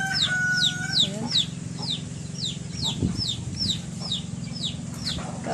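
Chickens and small chicks around a newly built coop, the chicks giving a rapid run of high, regular peeping calls while hens cluck low and close beneath, with a faint rooster-like call near the start.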